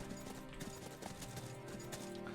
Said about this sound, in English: Come on, horsey, giddy up.